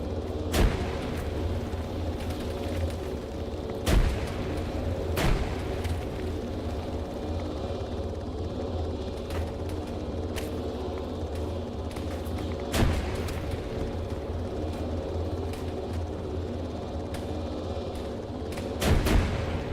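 Helicopter door gunners fire in the Arma 3 video game: sharp bursts of gunfire crack out at intervals over a steady, loud rotor and engine drone.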